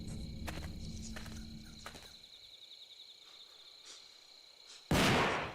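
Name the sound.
gunshots ringing out at a shrine, from video game Death Mark 2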